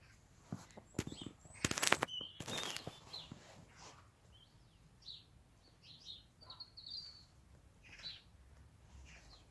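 Scattered bird chirps and short calls sound at a distance, preceded by a few sharp knocks and clatters, in a quiet outdoor setting between winter and spring.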